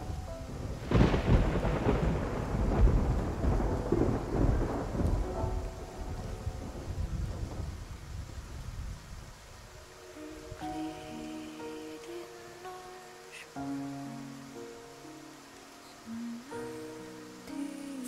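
A storm at sea in the video game Love and Deepspace: heavy thunder crashes and rumbles loudly over pouring rain, then fades as sparse melodic game music tones take over.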